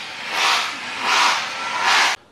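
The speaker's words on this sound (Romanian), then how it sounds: "Bineînțeles că a pornit flexul." An angle grinder runs near a stone temple, three loud whining bursts rising and falling in a regular rhythm before cutting off abruptly, with no voices.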